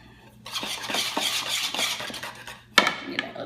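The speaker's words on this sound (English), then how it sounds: "Now I'm going to use my whisk and actually go in on it" A hand whisk beats red velvet waffle batter in a bowl, a continuous close, brisk scraping and clinking stir that pauses briefly before a sharp knock on the bowl and a few more strokes.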